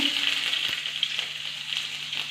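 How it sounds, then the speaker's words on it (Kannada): Onion sizzles steadily in hot oil, a close, continuous, bright frying hiss with faint crackles and no voices. "ಕಾದ್ಬಿಟ್ಟಿದೆ ಎಣ್ಣೆ ತುಂಬ ನೆಕ್ಸ್ಟ್ ಇದಕ್ಕೆ ಈರುಳ್ಳಿ ಹಾಕ್ಕೊತಾ ಇದ್ದೀನಿ"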